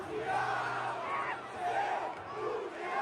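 Corinthians supporters in a stadium chant insults in unison at Carlos Miguel, a loud, rhythmic crowd roar that swells and falls in repeated waves.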